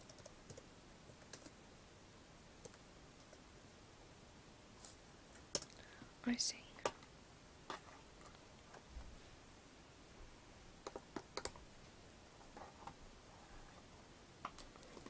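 Quiet computer keyboard typing comes as sparse, faint clicks and short bursts of keystrokes up close, scattered irregularly over a soft background hiss.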